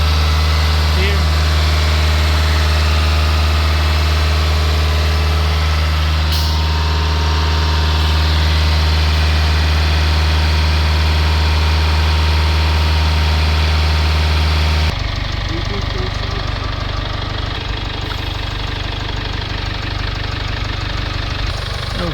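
A Jaguar F-Pace diesel engine, with a DPF fault, held at raised revs: a steady loud drone with strong low hum that runs unbroken, shifting in tone partway through, with no speech over it.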